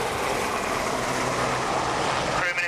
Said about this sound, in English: Helicopters transitioning into forward flight.